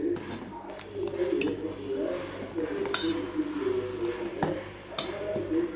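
A spoon stirs jaggery into sago and moong dal payasam in a metal pot on the stove. It gives soft scraping and squishing with occasional clinks against the pot, close and steady, over a low background hum.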